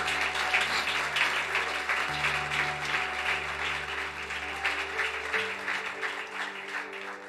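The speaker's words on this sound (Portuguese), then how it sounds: "dá uma salva de palmas a Jesus" Church congregation applauding together, a steady wash of clapping that holds for several seconds and slowly tapers off, with faint speech in the background.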